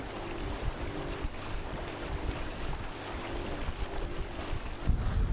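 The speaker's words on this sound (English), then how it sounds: "It's really cold there because the wind is coming down from the glacier." A cold wind blows down from a glacier across a sailing boat among drifting ice, a constant loud roar and buffeting on the microphone mixed with faint water wash.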